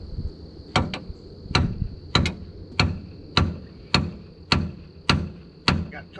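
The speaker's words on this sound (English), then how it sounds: "Got to choke that hammer to get it." A hammer pounds on the steering linkage during a pitman arm shaft seal replacement: about ten hard, close metallic blows in a steady rhythm, with a thin constant whine behind them and no talk.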